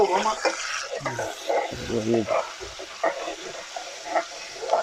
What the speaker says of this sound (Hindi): जमाल भाई ने इसमें प्याज मिर्ची डाल दी।